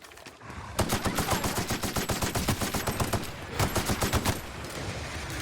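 Rapid bursts of automatic gunfire in the video game The Outer Worlds, loud and sustained with a brief pause before a final volley, rattling close over a busy in-game soundscape.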